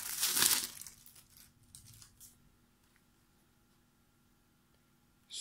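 Trading card packs from the Crisis Dragon Ball deck are torn open, a loud burst of crinkling, ripping wrapper up front, then fainter rustles and a short crinkle at the end.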